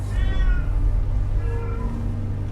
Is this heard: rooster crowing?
no